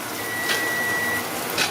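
A kitchen timer gives two short, fairly quiet electronic beeps about a second apart over faint background hum.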